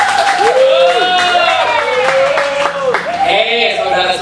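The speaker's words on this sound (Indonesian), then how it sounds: "Ayo tepuk tangan dulu untuk Pak Musa." Clapping for Pak Musa at a church fellowship gathering, a loud, continuous clatter of hands beneath voices.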